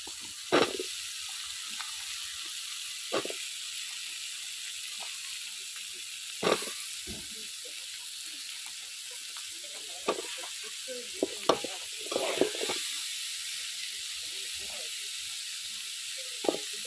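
Potatoes and pointed gourd sizzle steadily in a hot pan for a curry, a continuous frying hiss broken by a few sharp clinks and scrapes of stirring.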